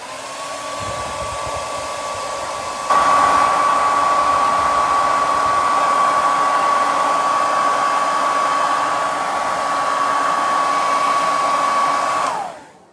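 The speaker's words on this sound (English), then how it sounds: "I'm gonna be using the blow dryer. It's just one of the cheap, you know, hair blow dryers." A cheap handheld hair blow dryer, spattered with paint from crafting, roars steadily while drying acrylic paint, with a constant whine and airy rush that steps up louder after a few seconds before shutting off.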